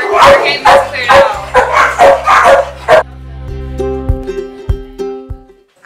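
Several dogs bark and yip at an animal shelter, a burst of loud, overlapping barks in the first half, then fainter scattered yips and whimpers as the noise settles.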